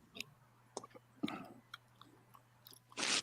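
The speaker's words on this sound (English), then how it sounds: "Who's chewing gum?" Gum being chewed close to a microphone during a game night, a run of soft wet clicks and smacks spaced irregularly over a few seconds, ending in a louder burst of noise.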